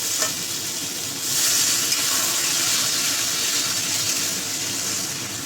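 Water poured into a pan of frying potatoes and pointed gourd that have been sautéed in spices for a Bengali katla fish curry, with a steady loud sizzle that surges and hisses as the water hits the hot oil.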